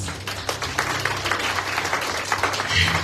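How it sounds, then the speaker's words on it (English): A church congregation at a Sunday evening retreat claps hands together in a dense, continuous round of applause lasting a few seconds, moderately loud and even throughout. "Clap your hands for Jesus."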